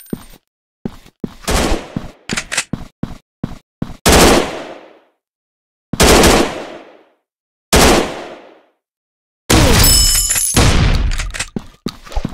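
Gunfire in the Android FPS game Secret Agent, bursts of rapid automatic shots followed by several loud, separate blasts with sharp cut-offs and short silences between them.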